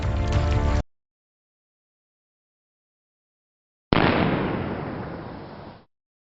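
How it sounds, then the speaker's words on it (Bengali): A gunshot blast from a movie forest scene starts abruptly, then after a long silence a second heavy shot or explosion bursts and decays over about two seconds, loud and close. "আমাদের বন্দুকের আওয়াজে ওরা ভয় পেয়েছে।"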